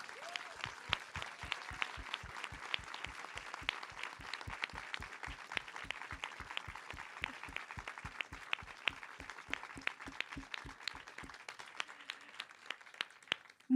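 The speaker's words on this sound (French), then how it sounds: "Je vous demande un maximum d'applaudissements pour Nina Métayer." A hall audience at the Pâtiss'Art 2024 pastry show inauguration applauds the pastry chef Nina Métayer, with quiet, distant clapping that settles into a slow, evenly timed rhythmic clap lasting over ten seconds.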